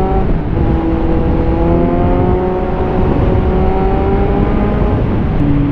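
A 2022 Kawasaki Z900 motorcycle engine holds a steady 4,000 to 5,000 RPM while riding, giving a loud, continuous droning whir with no voices over it.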